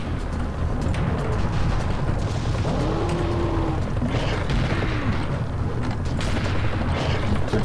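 Heavy, continuous blasts and rumbling explosions fill the clip, with a couple of whooshing rocket launcher launches rising over the dense low-end roar of combat in Serious Sam HD: The First Encounter.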